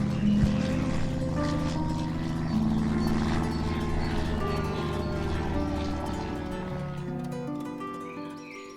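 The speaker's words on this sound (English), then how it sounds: "Oh, it's more aeroplanes." Aeroplanes pass overhead above a garden, making a steady, droning engine hum that fills the air and slowly fades toward the end.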